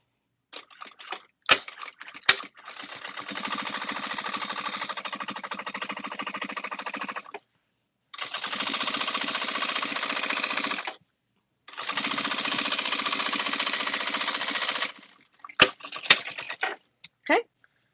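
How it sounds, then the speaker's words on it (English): A sewing machine stitches a half-inch seam on a tote bag with rolled handles: three long runs of fast, steady mechanical whirring separated by short pauses, with clicks and handling sounds at the start and end. "Now we're going to stitch."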